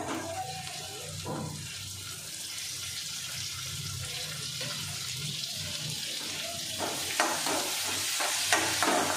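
Tomato goes into a pan for palak paneer and is stirred, giving a close sizzle with scraping stir strokes and a watery hiss that grows slightly louder toward the end, with no talk.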